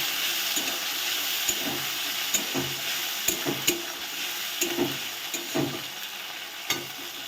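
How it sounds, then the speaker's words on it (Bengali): Ginger and green chili paste sizzles in hot oil already holding cardamom, cloves and cinnamon. A steady frying hiss runs throughout, broken by repeated sharp spatula scrapes and clacks as the mixture is stirred. No voices. "আমি আদা কাঁচা লঙ্কা যে পেস্টটা করেছিলাম ওটাকে আমি তেলের মধ্যে দিয়ে দিলাম"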